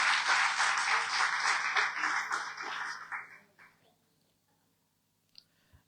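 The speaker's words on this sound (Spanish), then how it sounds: "Le doy un aplauso a Dios." A church congregation applauds in a sustained burst of clapping, moderately loud and somewhat distant, fading out after a few seconds into near silence with faint scattered sounds.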